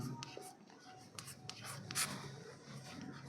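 Pen or chalk writing on a board during a physics lesson, a quiet run of short scratchy strokes and taps with brief pauses, close and soft, no talk over it.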